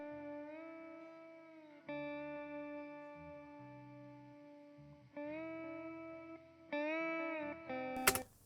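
Guitar chords play dry, without reverb, in a song being mixed. Sustained strums change every couple of seconds with a plain, close tone, and a sharp click ends the passage.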